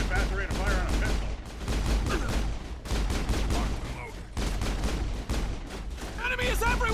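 Rapid pistol gunfire in Mass Effect 1, repeated bursts of sharp shots in quick succession amid game combat sounds and voices, fairly loud and continuous.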